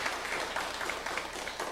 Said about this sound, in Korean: 우리 교회에서 잘 정착할 수 있도록 박수로 환영하도록 하겠습니다